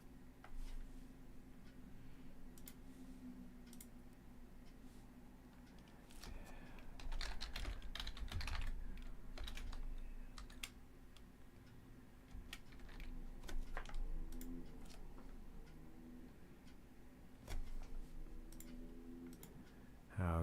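Fingers tap at a computer keyboard and click a mouse in scattered bursts, quiet and close, over a low steady background hum.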